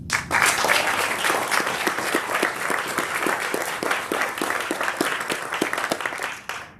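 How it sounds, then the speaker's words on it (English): An audience at an Army Futures Command town hall applauds awardees, a full, sustained round of clapping with rhythmic claps standing out, holding steady before tapering off at the very end. "Please join me in a round of applause congratulating both of these outstanding awardees"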